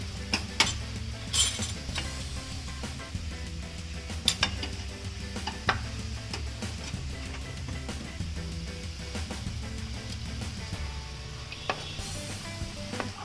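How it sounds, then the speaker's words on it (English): Mushrooms sauté in a pan over a low gas flame, a steady close sizzle with occasional clinks and scrapes of a utensil stirring against the pan. "So now I've nicely sauteed my mushrooms also."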